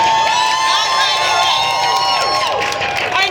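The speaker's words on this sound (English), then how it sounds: "I need a bigger applause than that" A large crowd at a political rally cheers and whoops loudly, with a continuous wash of voices, some high shouts and applause mixed in, filling the space for a few seconds.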